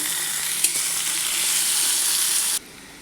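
Chopped vegetables hit hot oil with cardamom, cinnamon and cumin for rajma chawal, giving a loud, steady sizzle with a brief stir clatter near the start before the frying suddenly drops away near the end.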